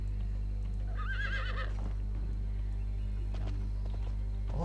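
In the MMORPG Forsaken World, a horse gives a short, shrill whinny close up, followed by a few light hoof clops, over a constant droning game background hum.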